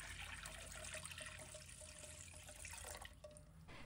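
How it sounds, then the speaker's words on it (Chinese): Water pours into a pot holding washed eggs before boiling, a steady, close rushing flow with splashing that runs for the whole stretch. "倒入足量清水"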